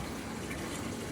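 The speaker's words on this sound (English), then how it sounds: "it's going to continue to fill until it feels like it has enough water" An LG top-load washer with an agitator fills with water, a steady, close rushing gush with no talking over it.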